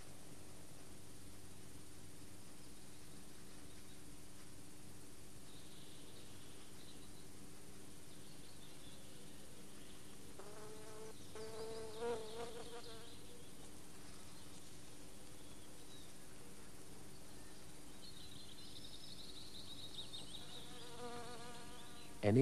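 Leafcutter bee buzzing while it lines its nest hole with chewed pieces of leaf, a faint, steady drone that swells in short, louder bursts near the middle and again toward the end, with no talking.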